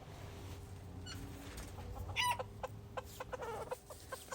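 Chickens cluck in short, scattered bursts, with a louder squawk partway through, over a quiet background hum.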